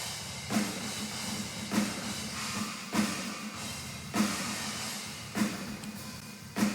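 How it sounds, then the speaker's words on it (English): Programmed MIDI drum kit for a metal band, run through a Waves IR-L convolution reverb, with heavy regular hits about every 1.2 seconds and a wide, washy room tail between them. "this is a convolution reverb like I was talking about with the Waves plugin"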